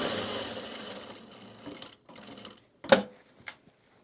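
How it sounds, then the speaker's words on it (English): A sewing machine runs steadily as it stitches around the perimeter of a self-drafted bag, slowing and stopping, followed by a few sharp clicks and taps up close. "So now we can just sew around the perimeter."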